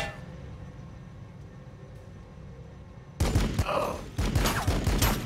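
Gunfire in the Warhammer 40,000: Battlesector strategy game starts abruptly as loud, dense volleys of shots and bursts over low battlefield ambience.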